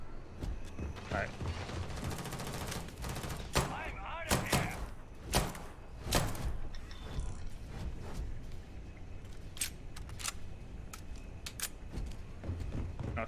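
Sharp, repeated gunshots ring out in the space game Starfield, mixed with mechanical clicks and clatter, coming in irregular bursts over a busy background with some talking underneath.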